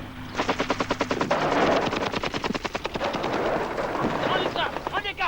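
Rapid, sustained automatic gunfire rattles through a battle scene in a 1984 SASR war film, loud bursts with brief pauses and voices shouting amid the shooting.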